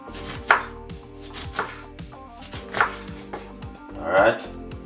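A knife chops through lemon slices on a cutting board, giving four distinct, close strikes spaced about a second apart over a steady low hum, with no voices.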